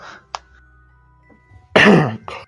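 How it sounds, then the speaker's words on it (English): A single throat-clearing cough, loud and close, rasping briefly before a shorter second burst, with a faint click and quiet room tone before it. "coughs as if to clear throat"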